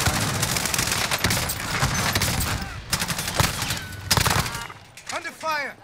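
Gunfire in the Warzone video game comes as rapid automatic bursts and scattered shots, loud and repeated, with voices talking in between.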